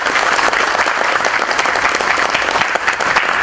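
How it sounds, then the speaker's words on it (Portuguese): Dense, sustained applause from a large crowd at an opening ceremony, with many hands clapping steadily at an even, loud level throughout. "Uma salva de palmas, por gentileza"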